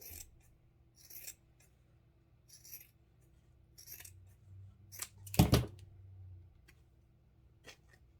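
A single sharp snip of scissors trimming easily frayed fabric lands near the middle, with fainter light ticks and handling noises scattered around it in a quiet room and no talking.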